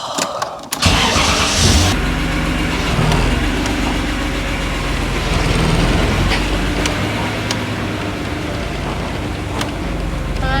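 A rebuilt BMW E36 engine cranks and fires up, then runs loud and steady close by with rough low rumble and a few throttle changes, no speech over it.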